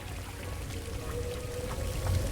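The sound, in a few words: pouring liquid like water, from the video game Paradise Killer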